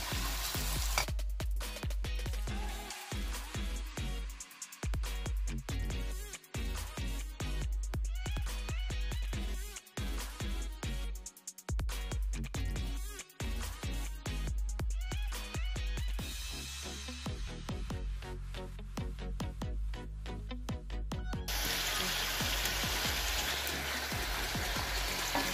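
Onions browning in a pan for chicken biryani, a dense steady sizzle and crackle running throughout, loud and close, with occasional stirring clatters and brief dips in the frying noise.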